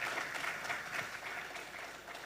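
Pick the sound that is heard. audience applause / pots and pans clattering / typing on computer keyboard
audience applause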